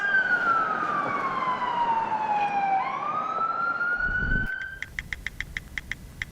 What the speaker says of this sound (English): Traffic noise, really, isn't it?